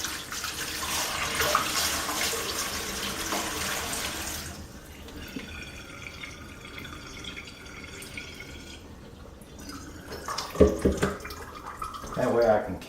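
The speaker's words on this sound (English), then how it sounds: "so I can just pour the excess water off." Water containing blackworms pours and splashes into a sink for a few seconds, then the flow drops away to quieter trickling and handling noises.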